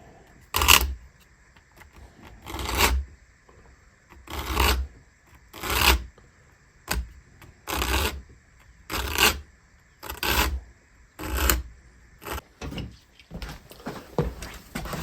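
An old saw blade is hand-filed with a file across its edge to put on a micro bevel, about a dozen distinct rasping strokes at a slow, even rhythm, close and alone.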